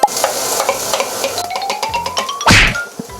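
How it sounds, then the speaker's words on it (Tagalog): Onions sautéing in hot oil in a wok for chicken Bicol Express: a steady close sizzle with spatula knocks and stirring scrapes, and a louder burst of hissing about two-thirds through. "Gigisa natin, syempre, yung sibuyas."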